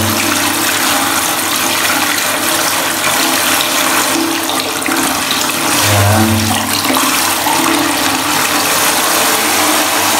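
Steady loud rush of water running through a Stiebel Eltron water heater that has no power, with a constant low mechanical hum throughout and a brief voice near the start.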